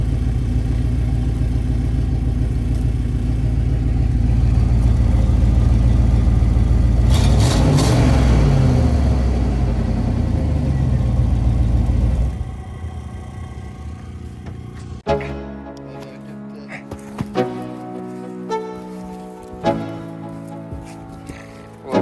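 Camper van engine idling with a broken, open exhaust, a loud steady rumbling drone that runs continuously for about twelve seconds, then cuts off, leaving quieter clanks and handling noises.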